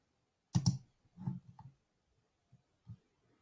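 A few close computer mouse clicks, a sharp double click followed by softer separate clicks, heard alone in a quiet room.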